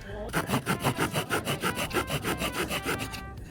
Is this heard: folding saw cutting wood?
yes